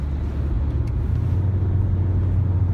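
A Peugeot 2008 in sport mode, just dropped from seventh into sixth gear while cruising at 90, gives a loud steady low engine drone mixed with road rumble from inside the cabin, with no talking.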